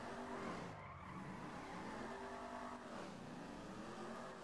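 A powerful, tail-happy car drifts in a racing video game, its engine roaring steadily while the tires squeal and skid in long wavering sweeps, loud and continuous with no talking.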